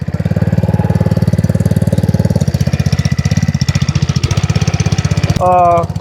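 A Texas power tiller engine runs steadily at idle with a loud, even low thumping pulse throughout, ending in a brief higher tonal burst near the end.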